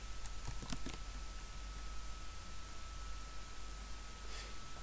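Fingers tap a few quick keystrokes on a computer keyboard, faint clicks bunched near the start and again near the end over a steady background hiss.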